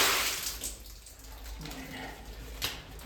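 Water being poured out of a boot after wading through a flooded mine section, a splashing gush that fades to trickles and drips, close by with a voice speaking briefly.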